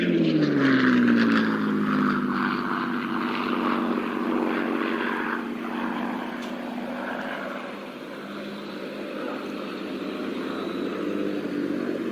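A North American P-51D Mustang flies in at the RAF Cosford Airshow 2019, its propeller engine droning loud as it approaches, with a falling pitch sweep early on and a sustained roar that eases slightly afterward.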